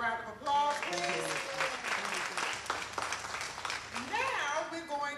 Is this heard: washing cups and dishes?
no